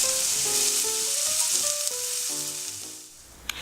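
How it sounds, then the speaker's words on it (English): Onion and garlic with red pepper flakes fry in a pan while being stirred, a steady broad sizzle running throughout with tonal background sounds layered over it and one sharp clatter near the end. "I'm going to stir that around for 3 or 4 minutes until they get to be a very nice golden brown"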